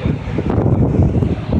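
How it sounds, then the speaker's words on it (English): Strong wind at the back of a cruise ship at sea buffets the microphone with a steady low roar, rumbling continuously without pause and no voices. "a little bit windy"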